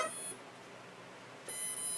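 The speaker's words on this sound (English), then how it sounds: "It does its beep session" Short electronic startup beeps from an RC helicopter's electronics after its battery is connected, at the start and again near the end, high-pitched and clean, with quiet between them.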